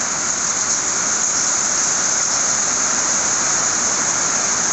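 Heavy rain pours down on a farm as a dense, steady hiss with no breaks, loud and close throughout, with no voices over it.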